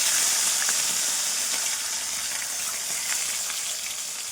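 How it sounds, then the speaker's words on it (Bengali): Bata fish rubbed with salt and turmeric sizzles steadily as it fries in oil in a kadai, a close, continuous crackling hiss with no talking. "এই যে কড়াই বাটা মাছ দিলাম"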